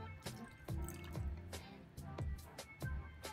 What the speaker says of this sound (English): Transfer the Fe5 into a 100 cm cube beaker.